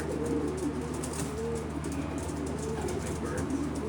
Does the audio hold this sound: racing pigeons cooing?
yes